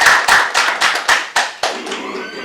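An audience at a sales meeting claps in a series of sharp, distinct bursts, close and loud, the claps arriving in uneven rhythm before tapering into a softer spatter at the end.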